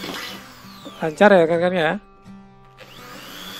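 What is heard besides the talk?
Doliz BA632 drill boring iron with a metal drill bit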